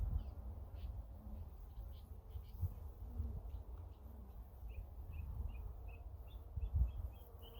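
Honeybees buzz around an open hive during a first inspection, a faint, continuous hum with scattered individual bees droning close by, over low rumbling handling noise.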